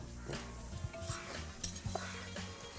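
Onion sautéing in a pan in a Koli fishing-village kitchen in Thal, Alibag: a soft, steady sizzle under repeated scraping and clinking of a stirring spoon against the pan.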